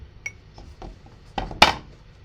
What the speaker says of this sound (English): So I'm going to wash my brush. Give it a little rinse.